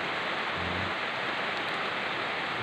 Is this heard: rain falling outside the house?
yes